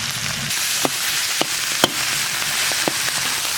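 Wheat gluten cubes stir-fried in a wok with oil, scallion, ginger, garlic, dried chilies and Sichuan peppercorns, then a spoonful of chopped chili sauce: a steady close sizzle broken by a few sharp spatula scrapes and knocks, with no voices.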